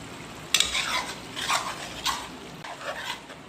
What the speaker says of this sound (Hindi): इन सबको अब हम अच्छी तरीके से मिक्स करेंगे